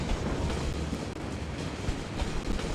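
A tram passing in the Cities: Skylines city-building game, a steady rumbling rail roll with faint clickety-clack, loud and continuous with no talk.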